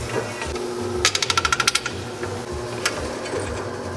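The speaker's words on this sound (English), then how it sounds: "I'm going to drill three holes in each piece" A power drill bites into angle iron in a quick burst of about nine rapid, evenly spaced chattering knocks, with a fainter single hit afterward over a low background hum.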